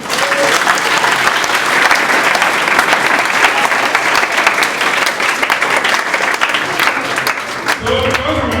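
An audience at a library meet-up with a readers association clap their hands steadily and loudly for about eight seconds, a thick continuous patter of many hands, with a voice entering near the end.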